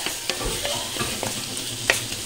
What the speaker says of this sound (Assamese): পিয়াজখিনি অকমান ৰঙচুৱাকৈ ভাজিব লাগিব